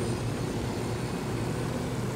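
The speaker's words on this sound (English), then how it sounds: "a helicopter flying really low over your enemy camp" In Ghost Recon Wildlands, a helicopter flying low over an enemy camp gives a loud, steady engine and rotor drone that fills the scene without break.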